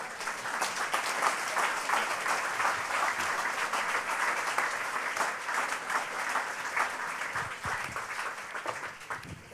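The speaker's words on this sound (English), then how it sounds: "And please all give yourselves applause." An audience at an anti-corruption conference applauds itself while standing, producing a steady, dense roar of clapping that holds for the full length at moderate loudness and fades slightly near the end.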